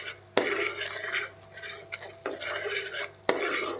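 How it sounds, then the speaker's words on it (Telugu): A spoon stirs grated coconut and sugar syrup for burfi in a pan, scraping close in long sweeps with three sharp knocks against the metal and a soft bubbling sizzle beneath. "ఇది పాకం వచ్చేంతలో ఇట్లా కలుపుతూ ఉండాలండి"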